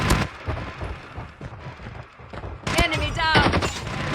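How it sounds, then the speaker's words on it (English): A sentry gun fires in the Call of Duty Mobile video game: loud, rapid bursts of automatic gunfire and impacts that start hard, ease off, then surge again with ringing, metallic mechanical tones. "Sentry gun deployed."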